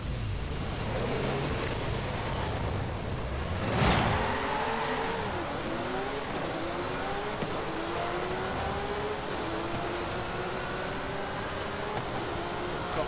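A Maserati MC12 supercar with a V12 engine in the Forza Horizon 5 racing game, its engine rising and falling through gears, with a louder surge near the start, steady and fairly close throughout.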